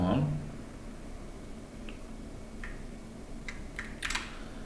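Someone types a dollar amount on a computer keyboard: a few crisp, close keystrokes in a short cluster near the end, preceded by sparse single clicks over a steady low background hum.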